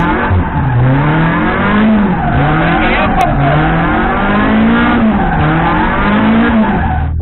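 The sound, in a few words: car drifting in circles, tires squealing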